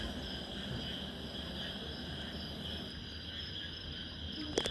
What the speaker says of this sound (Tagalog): yung mga naririnig lang natin dito is yung mga ano, kuliglig, kulisap